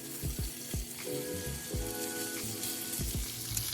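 Thick bacon frying in a pan, a steady crackling sizzle with soft spattering pops and a few low knocks of the pan, fairly quiet and with no talking.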